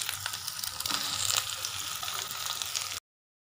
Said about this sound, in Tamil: இந்த வெண்டைக்காயை அந்த எண்ணெயில் போடுங்க.